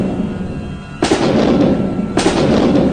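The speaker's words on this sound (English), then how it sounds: "They fired their guns." Two loud, booming volleys of soldiers' gunfire, about a second apart, each a heavy broadband blast that sustains into a rumbling roar over a dense background.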